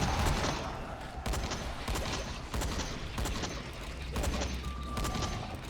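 Shotgun fire in the Dying Light video game, a dense run of loud blasts and crackling shots over a continuous rumbling background, with no clear pauses between bursts.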